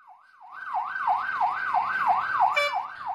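An ambulance carrying a critical patient, blocked by a soil-hauling truck, sounds its siren in a fast rising-and-falling wail, loud and close, with road noise underneath and a brief higher electronic tone near the end.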